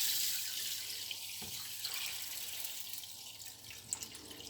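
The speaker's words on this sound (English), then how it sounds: "I'm going to add some water" Water pours into a pot of seasoned rice for cooking Cantonese pork-style rice, making a quiet, continuous hiss and trickle with a few faint splashes near the end.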